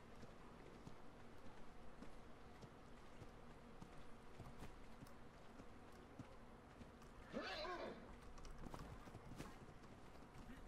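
A brief horse whinny in the video game Ark rises out of a steady low background hum, with faint hoof-like thuds scattered around it.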